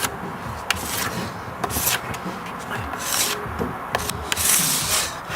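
A bar of wax being rubbed back and forth across a snowboard base, close-up scraping and swishing strokes in an uneven rhythm, with brief knocks in between and occasional background voices.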